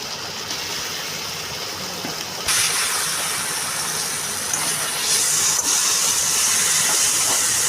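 Pieces of mutton hit hot oil and spices in a pan and set off a sudden, steady sizzle that keeps going close to the microphone, with occasional small pops over the constant hiss.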